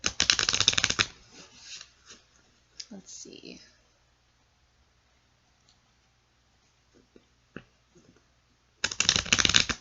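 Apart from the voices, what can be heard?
shuffling tarot cards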